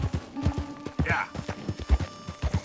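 Hooves of a Dutch Warmblood racing horse in Red Dead Redemption 2 beat out a steady, close clip-clop rhythm over the ground, several quick footfalls in a short stretch.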